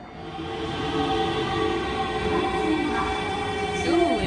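A train arrives with a steady, loud rumble of wheels on rails and a faint metallic squeal, growing slightly nearer throughout.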